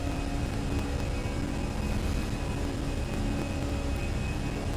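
Airliner jet engines at climb thrust in Microsoft Flight Simulator 2020, a steady, loud broadband roar with a low rumble that holds evenly throughout, no voices over it.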